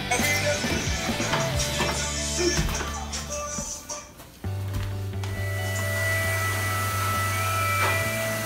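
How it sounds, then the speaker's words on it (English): A household vacuum cleaner drones steadily indoors with a strong low hum and whining tones, shifting pitch as it is moved and bumped around, then settling into a steady, loud run for the second half. "Get up and vacuum for me."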